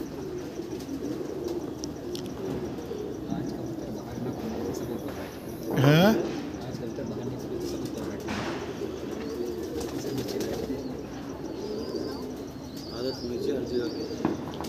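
Pigeons kept by a fancier cooing and chirping at a moderate distance, with a brief louder fluttering burst midway, under steady background noise and a little talk.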